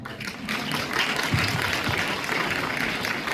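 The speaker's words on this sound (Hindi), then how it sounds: "तालियां बजाकर हमारे मुख्य अतिथि सेशन के इनका स्वागत कीजिए आप सभी" A festival audience applauds to welcome the chief guest at a literary festival session on Haryanvi culture; a steady, moderately loud wash of clapping swells after a quieter start and holds evenly.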